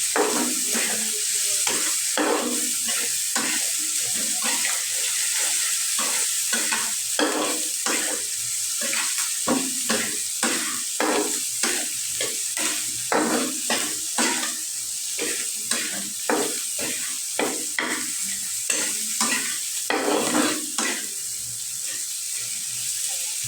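Dried fish curry with coriander leaves being stirred and sautéed in a pan, with a steady sizzle under repeated scraping strokes of a spoon against the metal, close and continuous with no talk.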